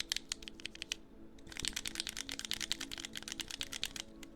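Quiet, close fingers type on a computer keyboard picked up by a binaural 3Dio microphone. The rapid, crisp key clicks come in steady runs with a brief pause early on, and no one speaks.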